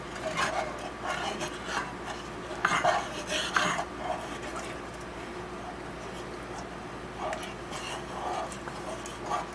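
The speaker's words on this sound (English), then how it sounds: "you want to stir it and mix it until it is completely dissolved" A spoon stirs jello mix into boiling water in a bowl, with steady scraping and clinking against the sides that runs continuously for several seconds, fairly close and without talk.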